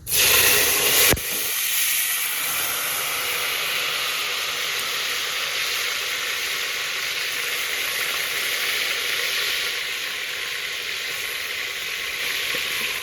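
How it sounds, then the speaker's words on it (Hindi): Garlic ginger paste dropped into hot oil with fenugreek seeds gives a loud burst at first, then settles into a steady, close, continuous sizzle and hiss that holds for the rest of the clip, with no talking. "अब इसमें डालूंगी मैं लहसुन अदरक"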